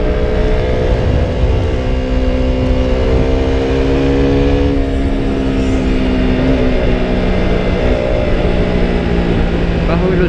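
Engine of a KTM RC 200 sport motorcycle revving loud and close on a road, its pitch climbing through the gears with a steady harmonic drone from start to finish, alone without talk.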